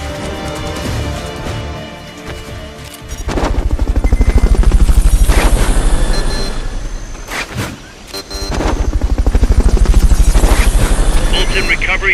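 In the video game Metal Gear Solid, a helicopter's rotor thumps loudly in two long swelling passes, with a heavy low drone. Gunfire-like bursts and in-game voices mix in.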